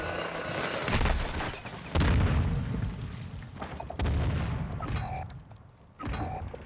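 Booming gunfire from a Minecraft combat game, arriving in several loud bursts at roughly two-second intervals, each a heavy blast trailing off into noise.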